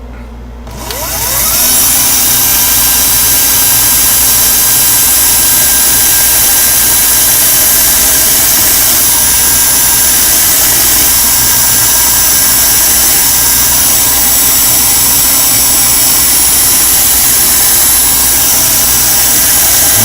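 A prototype security pin lathe runs on its first test, its motor starting up within the first second or two and then holding a loud, steady mechanical whine and hum with no talking over it.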